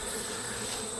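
A steady, faint hum of many bees buzzing around a hive fills the air as a continuous drone, with no other sounds.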